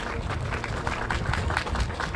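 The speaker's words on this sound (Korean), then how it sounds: "큰 박수해 주시기 바랍니다." Crowd applause at an outdoor rally, a dense continuous wash of many hands clapping at steady loudness with no speech over it.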